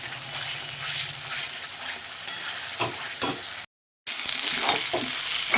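Mutton frying with spices and a splash of water in a pan, a steady close sizzle with scraping stirs throughout and a brief break in the middle.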